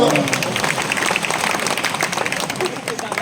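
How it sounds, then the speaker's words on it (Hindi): Applause from the audience at a Hindi kavi sammelan poetry gathering, a dense steady wash of clapping that continues over a voice speaking throughout. "तालियां बजाओ"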